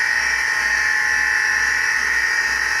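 A steady, high whine from the running motor of a Katoku KDC-240D double-head sharpening machine holds constant throughout, with a faint low pulsing underneath.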